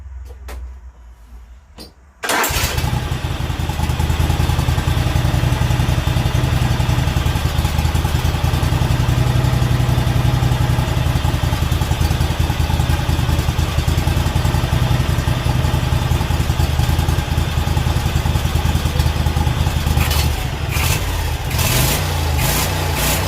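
A free garden tractor engine used as an off-road mower, revved high after a governor linkage adjustment: after a quiet start it kicks in abruptly and holds a loud, strained, buzzing run, then wavers and drops near the end.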